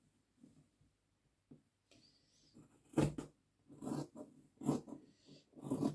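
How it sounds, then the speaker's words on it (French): Small scissors snip through fabric during a sewing alteration, a few quiet, close crisp cuts spaced irregularly over near silence. "Je prends mes petits ciseaux."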